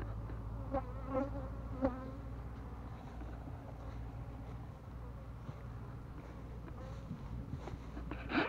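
Honey bees buzzing around deep-throated flowers at an apiary during the honey flow, a steady close drone of many insects with individual bees passing near the listener, no talking.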